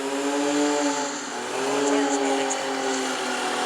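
A Ford Mustang roars through a burnout contest at New Smyrna, its engine held at high revs in a sustained, loud wail that dips briefly and climbs again, with crowd noise and an announcer's voice over it.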